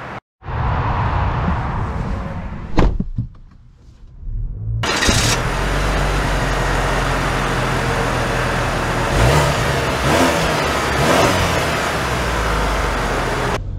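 A 2024 Cadillac XT4 Sport pulls away: a quiet cabin and a brief clunk, then the engine swells into a loud, steady accelerating drone with road noise that holds to the end.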